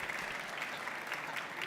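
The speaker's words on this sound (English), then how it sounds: "Round of applause" Applause from a conference audience after a startup pitch at a startup event, a steady even patter of many hands clapping at a low level with no voices standing out.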